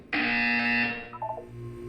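A single loud electronic buzzer tone from the Portal 2 video game sounds for about a second, then fades into a short falling beep and a low hum.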